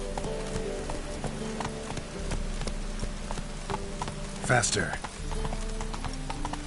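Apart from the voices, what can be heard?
horse Roach galloping in video game The Witcher 3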